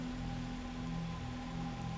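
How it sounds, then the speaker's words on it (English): Steady rain in the video game Fatal Frame 3, a continuous even wash of drops on surfaces holding at a constant moderate level throughout, with a faint low hum beneath and no talking. "Miku, is it raining again?"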